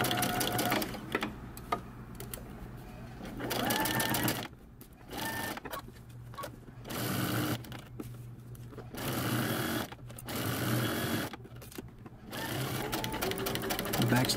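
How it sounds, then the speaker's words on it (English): A sewing machine runs in repeated bursts as it stitches a seam on a men's fitted shirt, rapid mechanical whirring that starts and stops several times, with a voice talking between the runs. "we're going to stitch it down using 5/8 of an inch seam allowance all the way down the side"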